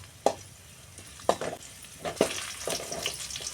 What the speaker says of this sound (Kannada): ಇವಾಗ ಬೆಳ್ಳುಳ್ಳಿ, ಹಸಿಮೆಣ್ಸಿಕಾಯಿ ಚೆನ್ನಾಗಿ ಫ್ರೈ ಆಗಿದೆ.